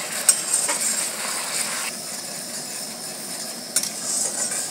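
Onion is stirred and browned in a pan, giving a soft, steady frying hiss with a couple of faint scraping knocks, quiet and close, with no voices.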